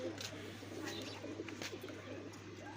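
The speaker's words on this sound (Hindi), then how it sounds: "ये मेरे पास बटीरा कबूतर है। बहुत पुराना कबूतर है, बटीरा।" Soft, low coos of a male high-flyer pigeon rumble faintly under a steady hum and background noise, close by but quiet.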